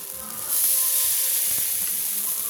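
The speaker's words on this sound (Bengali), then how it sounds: "দেখুন চাপাতে আমি দিয়ে দিচ্ছি" Rice-flour palm pitha batter sizzles steadily on a hot pan, a bright continuous hiss that swells louder after a moment and holds, with faint kitchen clatter.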